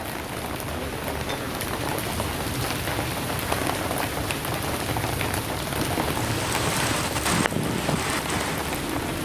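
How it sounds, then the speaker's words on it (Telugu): Heavy rain, accompanying a gusty storm with hail in Telangana, pours down in a steady, dense hiss across the whole stretch, with a sharper crackle near the end and no voices. "వర్షం మొదలైంది."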